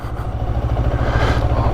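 A motorcycle ridden on a wet road, its engine thrumming close and loud in a steady pulsing rhythm with wind rushing alongside, no voices over it.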